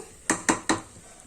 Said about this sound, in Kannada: ಅಕ್ಕಿಗೆ ಮಸಾಲ ಮಿಕ್ಸ್ ಆಗೋ ರೀತಿ ನೀಟಾಗೆ ಮಿಕ್ಸ್ ಮಾಡ್ಕೋಬೇಕು